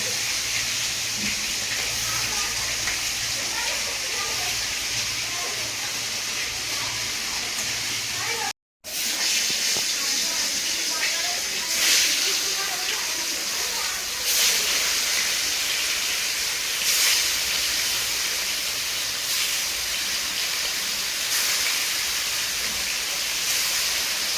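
Leafy greens sizzling in a pan with fried prawns make a continuous loud hiss, broken once by a short silence, with scattered clatters later on.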